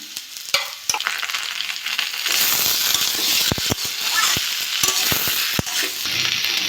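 Kohlrabi and potato fry in a pan as a spoonful of ginger-garlic paste goes in. Loud, close sizzling swells, and sharp spatula scrapes and taps against the pan recur throughout. No one speaks.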